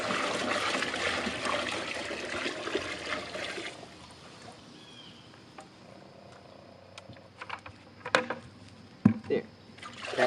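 Saline solution being poured from a container into a fish tank, a steady loud trickling rush for several seconds that stops abruptly, followed by quieter splashes and knocks.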